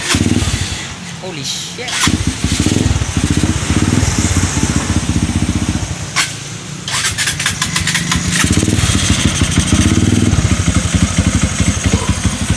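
A Rusi Flash 150 motorcycle converted from fuel injection to carburetor fires up and runs, its engine settling into a steady, loud idle with sharp revs. People talk and exclaim over it.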